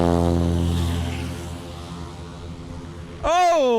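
Propeller engine of a heavy touring-class STOL aircraft at a short-takeoff competition rumbling with strong harmonic drone, then a sharp rise in pitch and loudness as it winds up near the end; continuous and close.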